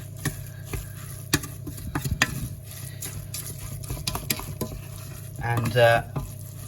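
Oats being stirred into warm flapjack mix in a pan on the hob, a series of soft scraping strokes and light knocks with a low background hum and a brief muffled rustle near the end.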